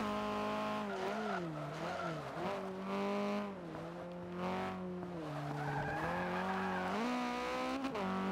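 A race car in Forza Motorsport 5 sliding slightly sideways through a corner, its engine holding a steady high drone that dips and rises in pitch with tire squeal and skidding layered underneath, continuous and fairly quiet.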